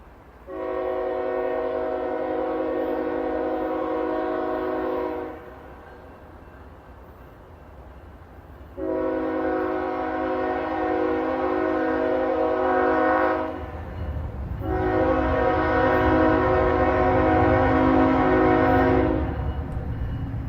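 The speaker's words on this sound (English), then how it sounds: "here comes that empty coal train that was sitting in track 2 for the longest time." A train horn sounds three long, loud blasts, followed by the deep, growing rumble of an empty coal freight train rolling past.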